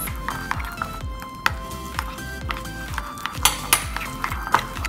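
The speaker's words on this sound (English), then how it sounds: "I'm gonna give this a good mix." A utensil stirs Korean army base stew (budae jjigae) in a pot, with steady metallic clinks and scrapes against the pot in a quick, repeating rhythm, close and moderately loud.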